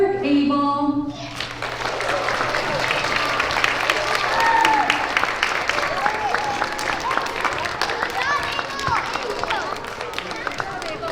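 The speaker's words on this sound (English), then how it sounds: "Let's give them a round of applause." A school assembly crowd applauds first graders, a sustained burst of many hands clapping that swells and then gradually thins, with voices murmuring underneath.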